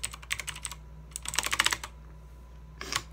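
Rapid bursts of typing clack on a Redragon Kumara mechanical RGB keyboard, close and crisp, in three clusters of keystrokes separated by short pauses.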